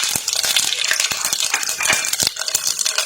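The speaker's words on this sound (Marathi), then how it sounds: "2 चमचे जिरे टाकायचे आहेत." Cumin seeds drop into hot oil and ghee in a pan, setting off a bright crackling sizzle dotted with quick popping ticks and spoon scrapes, close and fairly loud.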